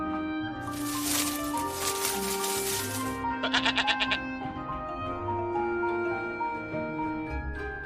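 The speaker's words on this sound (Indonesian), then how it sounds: "Ada domba jantan yang tanduknya tersangkut di belukar." A sheep bleats loudly in a long wavering call, then a shorter pulsing bleat follows, close and clear with no talking.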